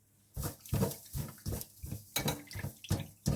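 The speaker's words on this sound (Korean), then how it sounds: "굴을 씻어요. 물에 소금을 넣고 굴을 넣고" Oysters swished by hand in salted water, a run of repeated wet sloshing and splashing pulses at close range, rhythmic and fairly soft with no talk.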